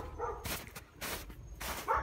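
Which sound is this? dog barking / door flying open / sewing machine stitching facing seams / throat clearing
dog barking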